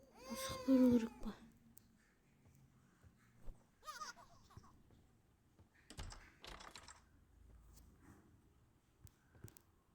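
A cat meows in the horror video game The Baby in Yellow, with a loud, drawn-out meow at the start and a shorter, softer one a few seconds later, amid faint clicks and scattered game sounds.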